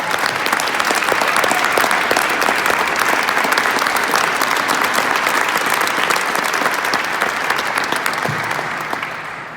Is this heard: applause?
yes